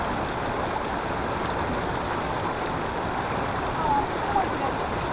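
Steady broadband rush of a river flowing through Costa Rican jungle near the Uvita waterfall, continuous and fairly loud, with a brief faint whistle-like tone near the end.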